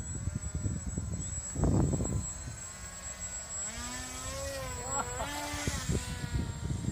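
A small RC paper aeroplane flies past outdoors, its thin motor buzz rising and falling in pitch as it approaches and passes, heard under a steady background hiss and a brief loud gust, with people talking nearby.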